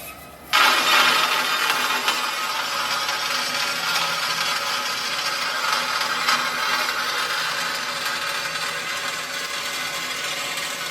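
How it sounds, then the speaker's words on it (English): A bandsaw cuts out a part while a Scrambler motorcycle is torn down for paint and powder coating, a steady loud whine and rasp running continuously from start to finish, close by and alone. "And we'll cut it out on the bandsaw."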